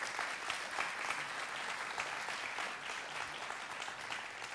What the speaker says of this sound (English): Will you just give all of our visitors a great big hand clap?